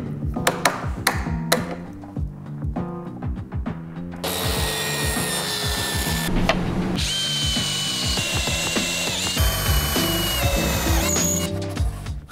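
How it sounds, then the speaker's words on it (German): A power drill bores two holes in wood, first a run of short bursts and knocks, then a sustained whining drill with a grinding, rubbing texture through the rest, fairly close and with no speech. "Schnell zwei Löcher reingemacht"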